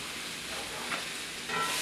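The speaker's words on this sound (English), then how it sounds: "My sauce is boiling." Pizza sauce for a Chicago deep dish pizza simmers at a boil in a pot, giving a steady soft bubbling hiss with faint stirring, fairly quiet and continuous with no talk.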